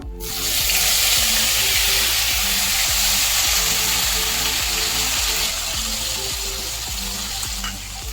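Onion paste frying in a pan for Bengali doi katla gives a loud, steady sizzle that runs the whole time, with a low, rhythmic background sound underneath.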